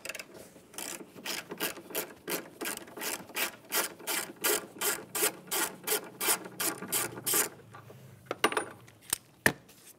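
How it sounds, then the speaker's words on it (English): A ratchet wrench loosens a 13 mm battery hold-down bolt on a 2000-2006 Chevrolet Tahoe, making a fast, even series of close clicks that slows to a few separate metallic taps at the end. "Let's remove that mounting bolt and the battery hold down."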